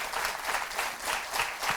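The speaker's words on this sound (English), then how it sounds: "Let's give them a big round of applause." Audience applause at an alumni awards ceremony, steady dense clapping from a large crowd swelling in small waves throughout, with no voices over it.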